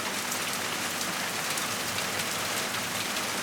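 Heavy rain falls steadily on a surface, a dense, continuous, loud hiss of drops with no talking.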